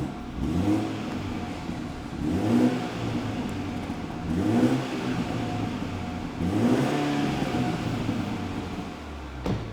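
A stock BMW 320i engine revs repeatedly, rising and falling in about four regular pulses, with a low exhaust burble from the stock exhaust and no talking.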